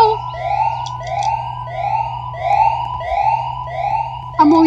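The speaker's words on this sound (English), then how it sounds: "I already hear their sirens!" A video game police siren wails in a rapid repeating yelp, loud and close, cycling steadily over a low engine hum before a brief clatter at the end.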